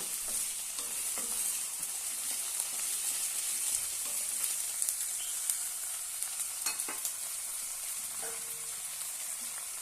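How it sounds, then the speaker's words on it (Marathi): Potatoes sautéing in a pan for okra potato sabji, a steady bright sizzle of oil with scattered scraping stir clicks, close and continuous with no talking. "आता आपण यामध्ये बटाटे घालूया बटाटे छान परतून घेऊया"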